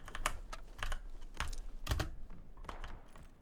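Brisk clacky keystrokes on a mechanical keyboard, uneven bursts of sharp clicks close by, with no talking.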